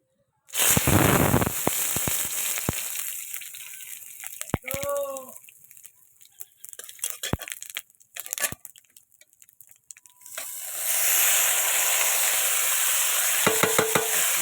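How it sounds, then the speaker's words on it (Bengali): Cumin seeds and bay leaves hit hot oil in a kadai with a sudden loud sizzle that slowly fades, broken by sharp pops and clinks, then a second fierce burst of frying near the end. "আমি এবার একটা কড়াইতে একটু তেল দেব, দুটো অল্প কটা জিরে আর দুটো তেজপাতা দিয়ে আমি রান্না করব"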